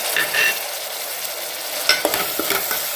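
Onions, tomatoes and curry leaves sauté in a pan for a prawn and bottle gourd curry, giving a steady close sizzle broken by a few spoon scrapes and stirring knocks toward the end.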